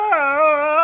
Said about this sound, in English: If the Gabriel Hound, you know it's there because you'll hear these eerie howls.